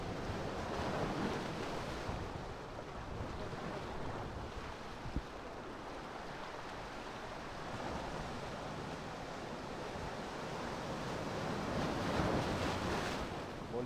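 Rough sea waves surge during a fishing trip in choppy water, a constant broad wash and roar mixed with wind buffeting the microphone, steady and fairly faint.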